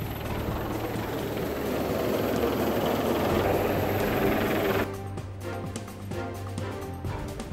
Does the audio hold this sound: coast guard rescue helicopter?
yes